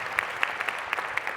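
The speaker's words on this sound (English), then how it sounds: "A round of applause for Manu" A conference audience claps briefly for Manu, a short burst of scattered applause from a modest crowd.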